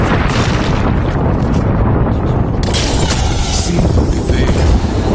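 An artillery strike in a first-person shooter rumbles as sustained, loud explosive booming, with a fresh burst of blasts about midway that continues to the end.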